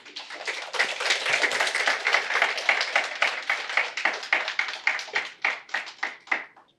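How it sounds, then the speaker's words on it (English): An audience at a Sunday evening spiritual talk claps steadily at close range. The applause settles into a pulsing, rhythmic pattern toward the end, with no voices over it. "Yes, we can all clap."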